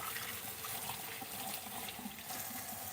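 Tap water runs steadily into a sink while ginger, lemon and other tonic ingredients are rinsed before peeling, a constant bright splashing wash with no talk over it.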